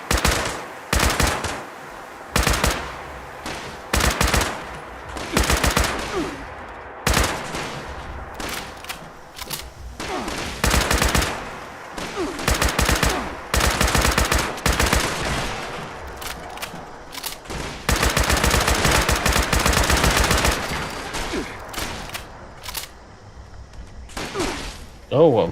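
Enemy gunfire in the Fallout 76 video game, with bursts of rapid automatic shots and scattered single cracks, loud and near, repeating across the whole stretch while a player speaks at times.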